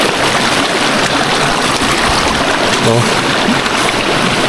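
Strong river current rushing through a forest below a waterfall, a loud constant roar of flowing water with a brief spoken exclamation over it.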